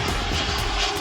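An American Eagle airliner from Philadelphia roars past close and loud, a dense, steady engine and air rush filling the brief moment without talk.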